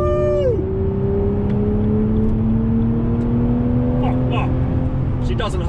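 A V12 BMW 760Li accelerating hard in sport mode, a loud steady engine note with rising harmonics sweeping up through the gears, heard from inside the car, with a brief shift near the start.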